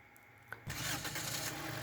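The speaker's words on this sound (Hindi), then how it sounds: "तो गाड़ी को करते हैं स्टार्ट और चेक करते हैं।" A Toyota Corolla 1.6 with a misfire fault starts up: a brief cranking whir, then the engine catches and settles into a steady, fairly loud idle with no talk.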